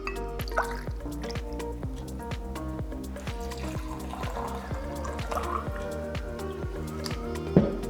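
Bourbon pours and drips into a glass for a hot toddy, a steady run of small liquid plinks and trickles, close and fairly quiet, ending with a light clink.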